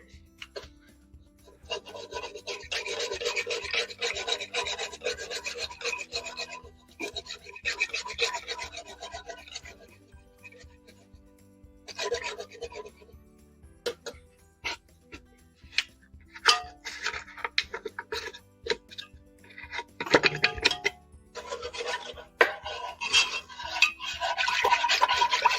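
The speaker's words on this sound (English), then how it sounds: "need to whisk my pectin in" A whisk stirs pectin into peach scrap jelly, making close, scratchy bursts of metal rasping against the pot that come in intermittent rhythmic spells with short pauses and light clinks between.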